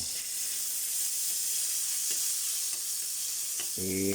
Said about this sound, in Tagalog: Magigisa na po tayo para sa ating pork pickles. Bawang.